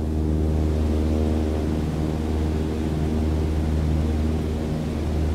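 A propeller airplane engine at cruise power of 2,300 RPM in Microsoft Flight Simulator, a steady loud droning hum with strong low harmonics, constant and unbroken without any talking.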